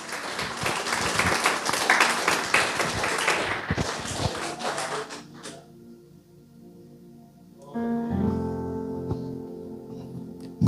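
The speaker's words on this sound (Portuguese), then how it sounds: "Uma salva de palmas a Jesus." Church congregation claps together in a dense burst of applause that lasts several seconds, then thins out and fades to quiet, followed by a sustained tonal church sound.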